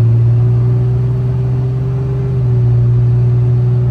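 A 2004 Dodge Ram 2500 with a Cummins diesel engine runs with a steady, deep droning rumble, close and loud, holding an even pitch with no clear gear change.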